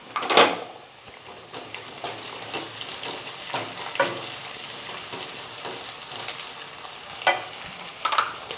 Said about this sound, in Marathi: कांदा चांगला लालसर रंगावर परतून घ्यायचा।